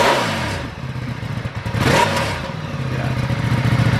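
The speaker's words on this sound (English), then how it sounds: "Let's start up the bike one last time, and then we'll get to work." A Lamborghini Diavel 1260 motorcycle with its stock exhaust idles and revs in a close, loud, steady engine drone with a swell of throttle near the middle and a lumpy, rumbling idle throughout.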